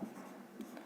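Chalk or marker scratching across a board during a decimal fractions maths lesson, a short continuous stroke heard close and quiet with no talk over it.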